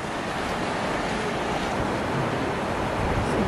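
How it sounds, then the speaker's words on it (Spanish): Ocean surf rolls onto the sand at Myrtle Beach, South Carolina, a loud, continuous roar of breaking waves mixed with gusty wind buffeting the microphone. "Miren, qué hermoso el mar."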